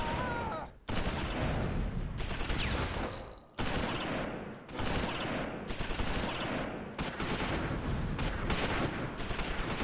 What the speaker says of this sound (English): I'm just trying to put extra rounds on target right now with no other tanks in sight